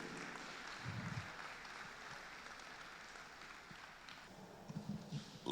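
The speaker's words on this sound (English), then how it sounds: "Please continue clapping until he gets here." At the opening ceremony of a 2023 Nigerian Bar Association law conference, an audience in a large hall claps faintly and at a distance, a soft, even patter with a few louder thumps toward the end.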